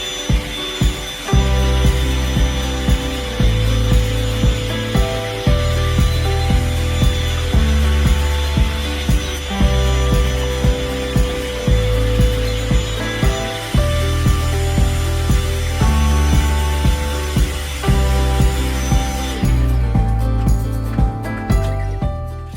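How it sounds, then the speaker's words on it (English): A loud vacuum cleaner runs close by with a steady motor drone that pulses in a regular rhythm, then cuts off near the end. "go on the vacuum cleaner."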